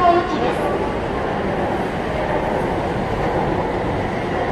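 Keikyu local train at Yokohama station, a steady loud rumble of the train running through the platform area with a continuous rolling roar and a faint high tone at the start, with no talking over it.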